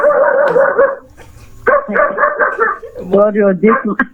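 A dog barks in a quick run of loud, close yelps, broken by short pauses and overlapping speech from people nearby.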